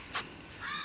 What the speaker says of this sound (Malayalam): നിറച്ചും കാക്കകൾ കരയണ സൗണ്ട് ഉണ്ടാവും ഇവിടെ